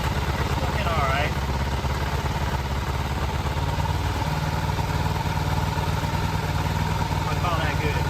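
A 2003 Kawasaki Ninja 500 motorcycle engine held around 2000 RPM and blipped gently back and forth, a steady close mid-range idle-like drone that runs the whole time with slight swells.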